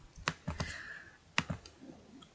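A computer mouse clicking in a quiet room, a few crisp close clicks in two quick bursts separated by a pause, fairly soft, with no talking.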